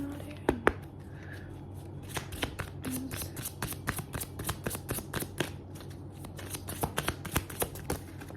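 A deck of tarot cards being shuffled by hand, a quiet close flurry of rapid crisp riffling clicks and flicks repeating across the span.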